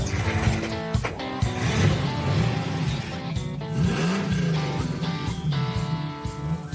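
A vintage Lamborghini Espada engine runs loud and close, with repeated uneven revs rising and falling over a rough mechanical rattle, heard alone without talk.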